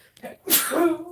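A single sharp sneeze bursts out at close range after a brief intake of breath, trailing into a short voiced tail, during a casual craft-room chat about sculpting and painting clay.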